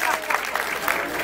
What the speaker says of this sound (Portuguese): pode aplaudir o secretário Felipe Camarão